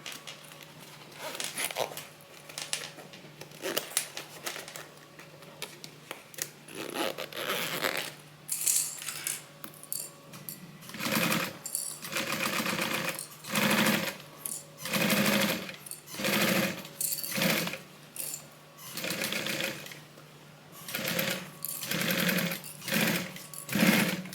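A sewing machine runs in repeated short bursts of stitching through a Bible cover, close and clear, with brief pauses between runs and no talking.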